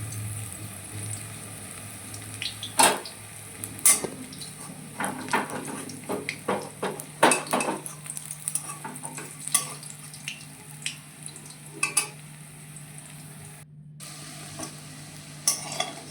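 Cauliflower fritters (boras) frying in a pan of oil, with a steady sizzle broken by irregular scraping and stirring clicks from a spatula, moderately close, no voices.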